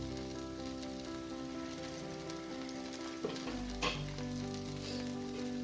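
Paniyaram frying in a little oil in a pan, a continuous low sizzle and crackle with faint background tones, and a brief louder burst where drops of oil hit the hot surface.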